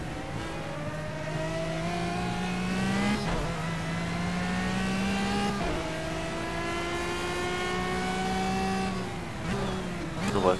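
GT race cars lapping Bathurst in the video game Project Cars roar continuously, engines climbing steadily through the gears with brief shifts, loud and close throughout.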